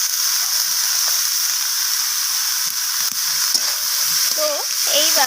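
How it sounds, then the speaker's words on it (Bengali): Vegetables stir-frying in a pan before steamed cauliflower goes in, a loud continuous close sizzle with occasional stirring scrapes and clatter throughout. "সব কিছু এইভাবে নাড়াচাড়া করে আমি ভাজা করে নিচ্ছি"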